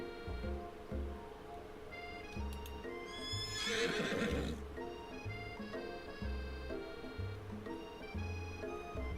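Horse neighing and whinnying over steady clip-clopping hooves in the I Love You Colonel Sanders video game, with a loud whinny near the middle above a bed of game music.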